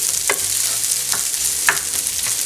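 Rice sizzles steadily in hot oil while frying for St. Louis-style chicken fried rice, with a few scraping stirs of a utensil breaking through the crackle.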